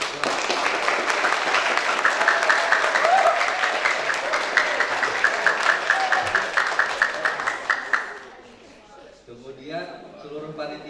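A crowd applauds a choir at a 2022 graduation ceremony in Banjarmasin. Loud, sustained clapping lasts about eight seconds before fading, then a voice speaks over the quiet hall.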